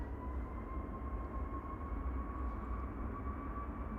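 A Boeing 737 MAX 8 airliner rolling for takeoff at Manchester Airport, bound for Malta, heard as a steady distant jet roar with a faint whine, unbroken and moderately loud.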